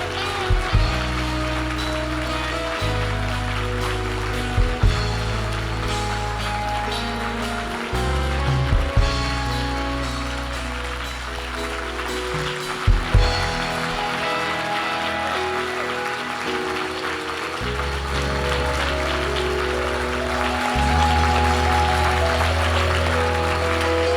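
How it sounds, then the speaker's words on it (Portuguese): A church congregation claps steadily through a worship service, a dense wash of applause layered over sustained music with deep bass notes and loud throughout. "aplaudir o nosso Deus"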